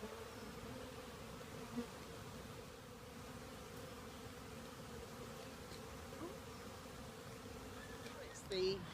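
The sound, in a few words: honey bees buzzing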